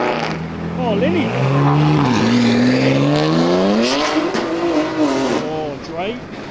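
Race cars at a roll racing event at Queensland Raceway, including a BMW M4, with loud engines revving and rising in pitch close by as they accelerate, while a spectator talks over the noise.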